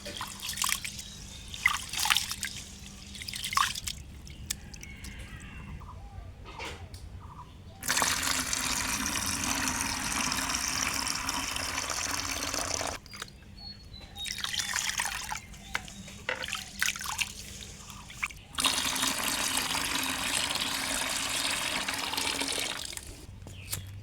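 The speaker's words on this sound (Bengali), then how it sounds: "চালটা আমি এখন ধুয়ে নিচ্ছি।" Rice being washed in water, with running water and sloshing that alternate between louder continuous stretches and quieter trickling dribbles, close by, with no talking.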